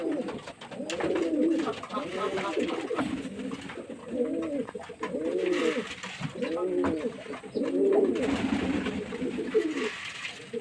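Pigeons in a rooftop pigeon house give repeated throaty coos in a steady rolling rhythm, several birds overlapping at close range against a soft background hiss.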